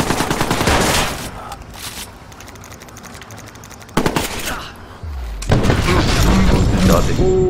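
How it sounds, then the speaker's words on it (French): Gunfire aimed at the player in Watch Dogs: loud bursts of rapid shots and impacts, a quieter mechanical stretch, then heavy sustained shooting resumes close by, with brief talk mixed in. "On me tire dessus!"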